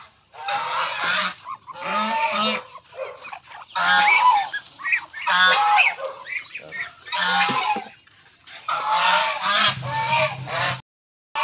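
Muscovy ducks give rough, hoarse honking calls in several bursts separated by short pauses, close by and fairly loud.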